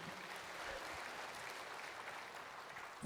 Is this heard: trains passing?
no